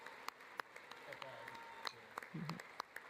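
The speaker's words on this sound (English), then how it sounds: "They're clapping right in the microphone." Clapping right into a microphone during a political address: sharp, close, irregular claps stand out over faint background speech.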